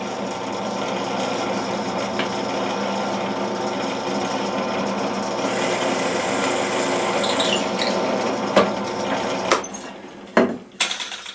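A Bauer 10-inch drill press drives a 1/4 inch brad point bit into cherry wood, a steady motor whine with a busy cutting buzz, followed near the end by a few sharp clunks and knocks.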